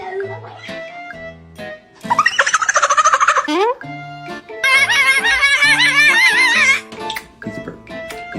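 A pet parrot vocalizes and mimics sounds, swinging between short tonal whistles and long, loud, warbling gobble-like bursts, with a quieter voice now and then in between.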